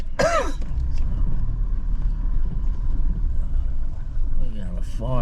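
A car driving slowly along a track toward a riverside campsite at Barmah, with steady low engine and road rumble throughout, close and continuous; a person coughs or clears their throat at the start and again near the end.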